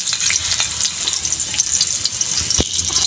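Garlic and onion sauté together in a pan, a loud, close, continuous sizzle with light stirring scrapes and one brief clunk near the end, and no voices.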